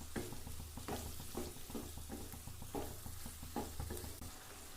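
Bottle gourd curry being stirred in a pan with ground coconut and cumin, a steady wet sizzle under repeated scraping strokes of the spoon at a regular rhythm, close up, with no one talking.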